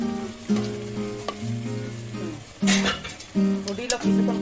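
Rohu fish curry sautéing in a pan, a moderate sizzle with intermittent stirring scrapes, while a voice talks loudly over it in several bursts.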